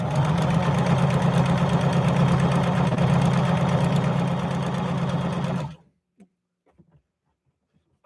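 A Juki HZL-353ZR-C sewing machine runs a mountain style stitch, a dense rapid mechanical whirring and chattering held steadily for several seconds, then abruptly stopping, followed by a few faint clicks in near silence.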